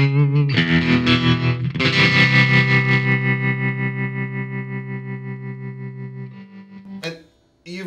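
Distorted electric guitar through a tremolo pedal holds a sustained chord that pulses with a steady, rapid tremolo throb, fading at the end before a brief new strum.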